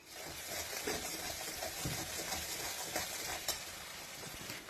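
Tomato and spice paste with salt, Kashmiri red chilli powder, sugar and green chillies sizzling in a pan while being stirred, a steady soft frying hiss with occasional spatters, nearby and quiet, no voices.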